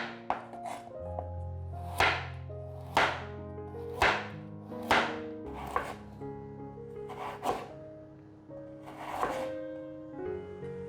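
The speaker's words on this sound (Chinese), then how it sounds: "把红萝卜切片。" Knife slicing peeled carrot on a cutting board in a home kitchen, a series of crisp, distinct chops at roughly one-second intervals, close and clear with no voices.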